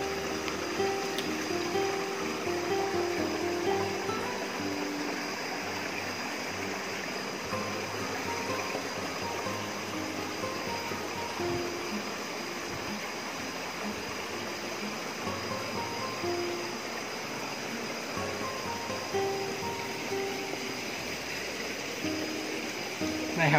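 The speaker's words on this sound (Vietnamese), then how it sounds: "Gần tới đỉnh của cái thác luôn rồi." Mountain stream and waterfall rushing near the top of the falls, a steady broadband roar of flowing water over rocks that continues unbroken and fairly loud throughout, with a voice occasionally talking over it.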